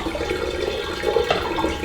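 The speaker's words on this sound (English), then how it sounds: "now we're down to mostly juice, and it's basically pouring right through." Grape juice pouring steadily through pressed pulp while making wine from organic grapes, a continuous close liquid gushing and trickling with no talking.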